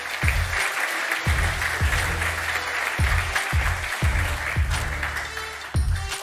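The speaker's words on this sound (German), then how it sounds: "Haben wir hier ein bisschen Applaus" Crowd applause for a player on a German sports show, sustained clapping that fills the room under a steady, booming low rhythmic thumping, continuous for several seconds.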